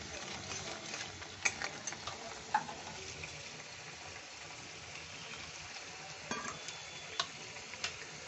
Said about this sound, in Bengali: এই পাতাটা দিয়েও তো একটু ভালো কষতে হবে